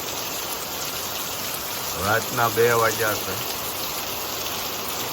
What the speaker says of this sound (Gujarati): હવે ચોમાસું ચાલુ થઈ ગયું હોય એવો વરસાદ આવે છે